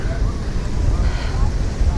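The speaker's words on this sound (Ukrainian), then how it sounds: "вітер дуже сильний" Steady, strong wind buffeting the microphone on the climb up Pedra do Arpoador in Rio de Janeiro, a continuous low roar with no break throughout.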